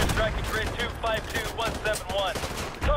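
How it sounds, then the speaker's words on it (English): Rapid bursts of automatic enemy gunfire in the Modern Warfare 2 campaign, sharp repeated shots in clusters across the whole stretch, loud and close, with someone talking over parts of it. "All you need to know is that they're shooting at us now."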